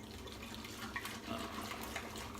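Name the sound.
rinsing shaving brush and bowl under tap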